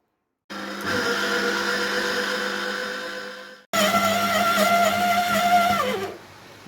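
A kitchen mixer kneads za'atar bread dough of water and sunflower oil, running as a steady loud whir in two long bursts with a brief pause between and a drop in pitch as it winds down at the end.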